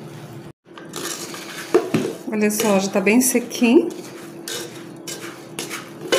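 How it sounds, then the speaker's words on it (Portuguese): Sugared peanuts are stirred in a hot pan with the heat switched off, a utensil scraping and clinking against the metal in busy, irregular bursts while someone talks throughout. "Vou ficar mexendo até ele ficar açucaradinho para ir desgrudando um do outro,"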